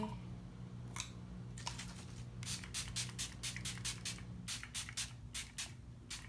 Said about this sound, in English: I'm gonna put on my Too Faced Hangover setting spray